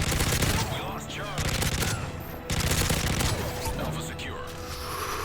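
Rapid automatic gunfire from a favourite weapon in the video game Modern Warfare 3, loud bursts of fast repeated shots separated by short pauses, with booming impacts and rattling mechanical effects, no voices.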